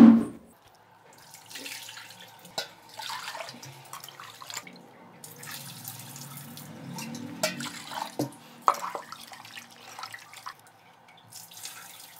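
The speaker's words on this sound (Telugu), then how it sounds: "ముక్కాల గ్లాసు బియ్యము వేసేసి దీన్ని బాగా కడిగేసి స్టవ్ మీద పెట్టేద్దాము." Rice being rinsed in water in a home kitchen, with intermittent splashing and swishing bursts, faint trickling and a few small knocks, fairly quiet and close.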